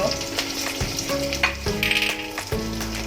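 Cashews and asafoetida hit hot oil for masale bhat with a loud, steady sizzle, joined by clattering stirring and a few sharper pops across three seconds.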